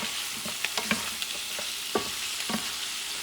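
Sofrito aromatics stirred in a pan for Puerto Rican rice with beef ribs, a bright steady sizzle with several spoon scrapes and knocks against the pan.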